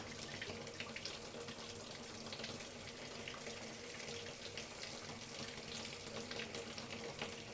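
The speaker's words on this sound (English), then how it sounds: "I'm going to add some warm water from the tap." Warm water runs steadily from a kitchen tap into a sink, a continuous broad hiss and splash that stays close and even throughout with no talking.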